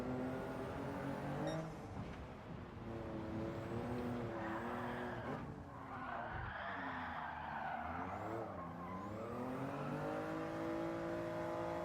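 Race car engine in Gran Turismo 7 during a time trial, loud and steady throughout, with harmonic tones rising and falling as the throttle is worked and tires skid through corners. No talk.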